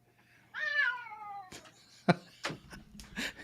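A cat meows in a drawn-out, wavering call near the microphone, followed by a few short sharp sounds and quieter noises, with no talk over it.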